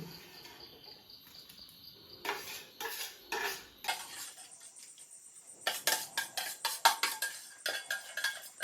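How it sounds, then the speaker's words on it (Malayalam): A utensil scrapes and clinks against a pan, stirring green chillies, ginger and garlic for sardine pickle in repeated strokes, growing faster and louder toward the end, with faint insect chirping behind. "എല്ലാം മിക്സ് ചെയ്ത് കൊടുക്കുകയാണ്."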